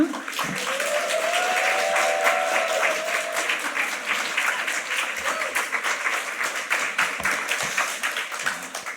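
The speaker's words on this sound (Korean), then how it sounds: "나오실 때 우리 큰 박수로 환영하도록 하겠습니다" A church congregation at a Friday evening worship service applauds to welcome a missionary, a sustained patter of many hands clapping across the room, with a voice briefly heard over it early on before the clapping continues alone.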